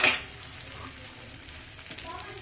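Fried potatoes go into a sizzling spice masala on a medium flame while cooking mocha chingri, giving a steady close hiss with a sharp burst at the start and light stirring scrapes later.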